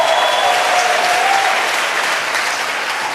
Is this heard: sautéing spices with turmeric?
no